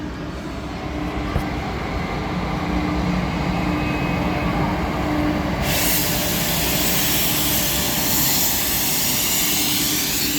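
Pollachi to Salem passenger train starting to move, a steady loud rumble of engine and wheels building as the coaches pull away, with a brighter hiss rising midway through.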